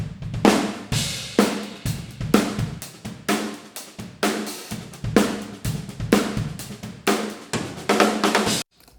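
Two identical sources panned to the centre and summed to mono with normal polarity: a punchy, full-bodied rhythmic music loop with strong bass, steady repeated hits throughout, loud and close, no voices.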